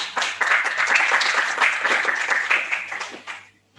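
Audience applause at a lecture on the Second Vatican Council rises to a dense, steady patter of many hands and then fades out near the end.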